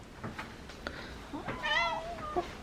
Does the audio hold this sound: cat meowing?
yes